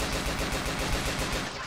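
Sustained automatic fire from an M3 grease gun in the World War II game Forgotten Hope 2, a dense, rapid, loud burst that runs continuously without pause.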